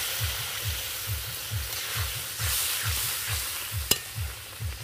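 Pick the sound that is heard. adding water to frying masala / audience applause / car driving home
adding water to frying masala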